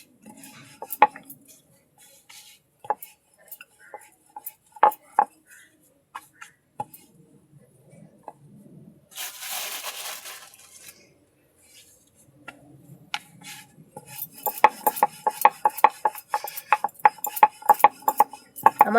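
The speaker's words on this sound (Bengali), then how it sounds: "এবার আমি রুটিটাকে বেলছি" Black cumin roti dough is rolled out with a rolling pin, giving scattered wooden knocks and clacks against the board, a brief rushing swish in the middle, and busier, rapid tapping toward the end.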